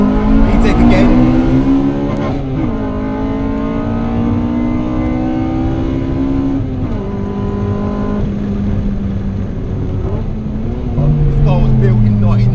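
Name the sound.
Honda Integra Type R engine revving into VTEC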